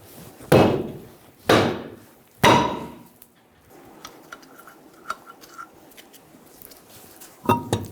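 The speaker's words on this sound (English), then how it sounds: "Using a saw face hammer, we're going to hit the rim on the back." Three heavy blows from a saw face hammer ring out on the back of a 2000-2007 Ford Focus wheel rim at an even pace, followed by quieter clinks and a fourth strike at the end.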